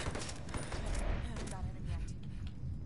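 Rapid gunfire aimed at C4 in a multiplayer shooter, a dense run of sharp shots over roughly three seconds with voices talking across it.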